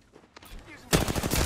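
Incoming gunfire in the battle royale shooter Apex Legends, a few faint shots and then a sudden loud rapid burst that fills the last half second.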